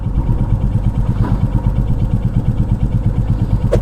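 A Royal Enfield Classic 350 Reborn motorcycle idles with a steady, loud single-cylinder thump, its even beat running throughout.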